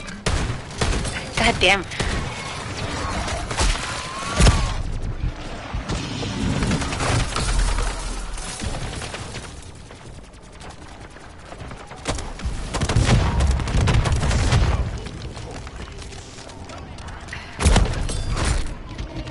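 Repeated gunfire in a video game comes as dense bursts of shots and thumps, loud and close, with heavier clusters near the start and again later. A player talks and swears over the shooting.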